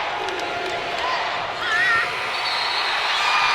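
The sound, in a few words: basketball crowd shouting UGA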